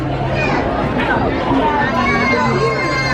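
Dense crowd noise fills Magic Kingdom at Walt Disney World in December, a loud, steady wash of overlapping chatter and distant shouts from many people all around.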